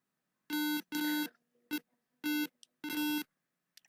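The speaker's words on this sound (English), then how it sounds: "We can see the LEDs are turned on and the buzzer is signaling." A buzzer alarm on a simulated smart medicine box sounds in five loud, sharp electronic beeps of uneven length, separated by short silences, close and alone.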